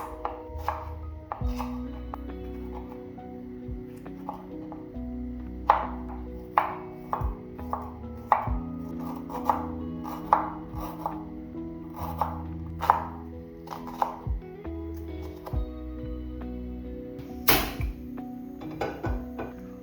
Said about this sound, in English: I'm going to start off by roughly chopping my ingredients